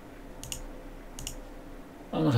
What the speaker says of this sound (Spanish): Si le doy doble clic para abrirlo